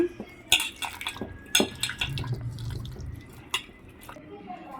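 Water sloshes and drips as mushrooms are gently rinsed by hand, with sharp clinks of a bowl or utensil scattered through and a voice speaking nearby.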